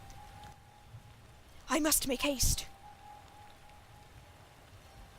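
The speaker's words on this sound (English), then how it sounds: "Between the pitter-patter of rain and the strong winds blowing" Steady rain and wind in a quiet video game town, a soft continuous patter and hiss throughout, briefly covered by a spoken line in the middle.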